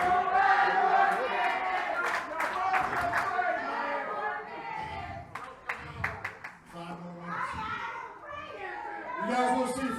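A wrestling event crowd shouts and cheers, asking for five more minutes of the match; loud, busy crowd voices carry on with a commentator talking over them.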